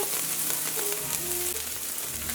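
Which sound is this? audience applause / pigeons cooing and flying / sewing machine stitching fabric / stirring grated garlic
stirring grated garlic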